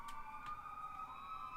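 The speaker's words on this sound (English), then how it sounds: "Oh my god, another siren again." A siren passes outside, a steady wailing tone heard faintly in the distance, with two soft knocks near the start and no talk.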